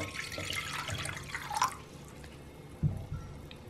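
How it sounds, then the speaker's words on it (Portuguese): Water splashes and pours into a pot for about two seconds, followed by a couple of light clunks in a quiet room. "Aqui na panela eu vou colocar a água."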